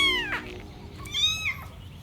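A stray cat with an injured leg gives two clear meows, the first short and rising, the second longer and drawn out, over a quiet low background hum.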